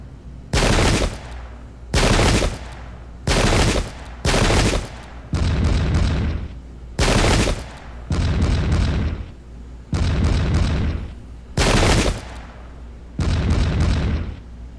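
Musket volleys in the Pike and Shot video game: ten loud, evenly spaced bursts of massed gunfire, each lasting about half a second to a second, with brief pauses between and no voices.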